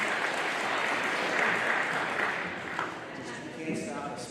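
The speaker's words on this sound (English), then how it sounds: "can't stop the spontaneous applause" Spontaneous applause from a graduation ceremony audience, a dense, steady wash of many hands clapping that lasts throughout and eases slightly toward the end, with some voices mixed in.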